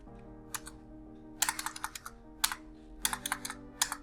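Rapid typing on a computer keyboard while entering bank ledger details in Tally accounting software: bursts of crisp, close key clicks with short pauses between runs and no talking.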